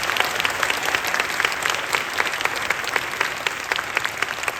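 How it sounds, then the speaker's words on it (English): A large audience of about 900 at a Hong Kong Disneyland celebration event applauds steadily, a dense, even wash of clapping from a big crowd throughout. "how about a round of applause for all the hard work of everyone involved?"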